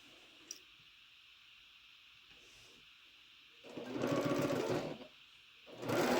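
A sewing machine stitches quilt pieces in two quiet bursts of steady whirring, one running about a second and a half and a shorter one at the end, with faint room hiss between.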